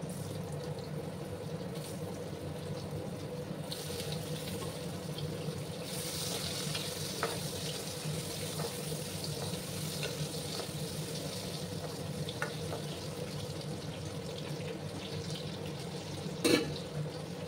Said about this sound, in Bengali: এবার আমি ওই তেলের মধ্যেই দেখো এইভাবে আলু কেটে রেখেছিলাম, সেই আলুগুলো দিয়ে দিলাম।